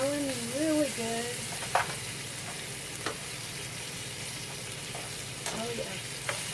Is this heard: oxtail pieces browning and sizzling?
yes